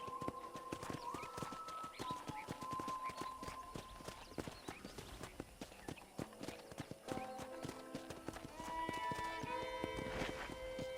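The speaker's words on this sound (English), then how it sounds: "let's see if you can still ride a horse" A horse's hooves clip-clop at a steady walking pace in the Western game Red Dead Redemption, a rhythmic close clatter accompanied by tonal game music and effects.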